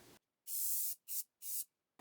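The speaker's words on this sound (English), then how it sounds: "I spray painted the metal white so it blends in better with the next step." White tub and tile spray paint hisses from an aerosol can onto metal in three close bursts, one long and two shorter, with no talking.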